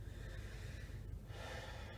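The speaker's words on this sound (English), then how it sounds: "So that's a high chest breath" A man demonstrates a high chest breath, a steady, close breathing sound with audible airflow lasting the whole moment, no speech over it.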